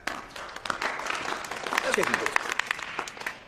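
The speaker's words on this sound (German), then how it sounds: "Applaus für Coach Brewer, Leute." Applause for Coach Brewer in a school wrestling lesson, moderate clapping from a group of people spread through the moment, partly under speech.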